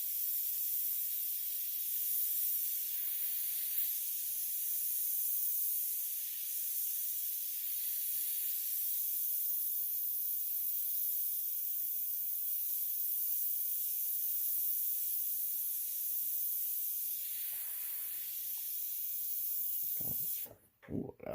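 An airbrush sprays paint in a long, even hiss that runs steady and close, ending in a brief sputtering burst near the finish, with no talking.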